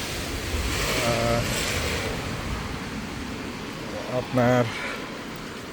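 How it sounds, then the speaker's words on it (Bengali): Heavy rain pours outdoors while someone walks without an umbrella, a dense steady hiss throughout with a voice speaking briefly over it. "দেখেন প্রচুর বৃষ্টি হচ্ছে"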